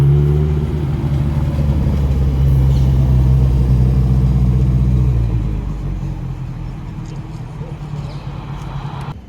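Supercars on a Paris street, a pair of them arriving with a loud low engine rumble close by that fades as they pull away, with a voice talking over it.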